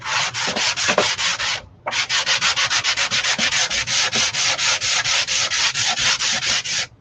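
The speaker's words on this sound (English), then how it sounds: "I'm just going to sand it with a, I think this is 120" Wood being sanded by hand with 120-grit sandpaper, a steady run of quick back-and-forth rasping strokes that stops briefly after the first couple of seconds, then resumes at a faster, even rhythm, close and loud.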